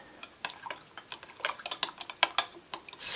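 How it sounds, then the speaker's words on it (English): Spoon stirring yeast and sugar or syrup into warm water in a bowl, a close run of quick irregular clinks and scrapes, louder toward the end, with no talk. "Stir to dissolve, and stir longer if you're going to be using sugar."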